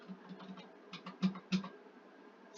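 Quiet typing on a computer keyboard, a scatter of soft key taps with a few louder presses, close and faint.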